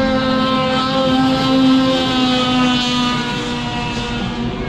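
Snowmobiles at a drag race, the final open stock class: a loud, steady high-revving engine whine held throughout, rising slightly as the sleds pull away, with no voices over it.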